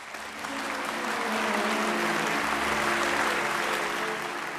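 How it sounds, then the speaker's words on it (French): An audience applauds steadily, a dense, even wash of many hands clapping from start to finish, sounding moderately close and sustained without any break. "Et ils applaudissent."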